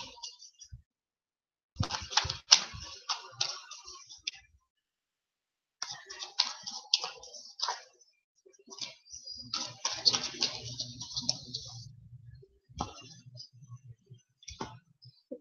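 Tarot cards being shuffled and cut into three piles, heard as bursts of soft riffling and clicking card snaps in several separate runs, close and fairly quiet with short pauses between.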